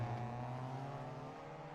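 Throaty Mazda MX-5 race car engine from the iRacing sim at Long Beach, a steady sustained drone with strong low harmonics, held at an even, loud level with no talk over it.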